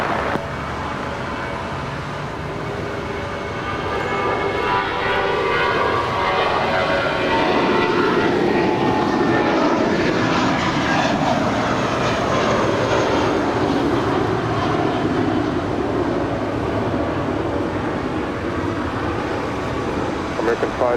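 At LAX, a jet airliner rolls down runway 25 right and takes off, its engines building into a loud, steady roar that swells and carries across the airfield, with radio talk audible underneath.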